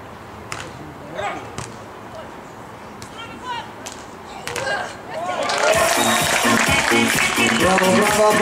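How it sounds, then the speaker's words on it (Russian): Spectators applaud and cheer at a beach volleyball match at the Moscow Grand Slam, the dense clapping swelling loudly after about six seconds, with an announcer's voice and scattered crowd shouts beforehand. "Браво, браво, аплодируем!"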